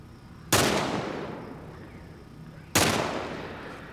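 Enemy gunfire in The Last of Us Part 1 video game, two loud single shots about two seconds apart, each ringing out with a long decaying echo over low background ambience.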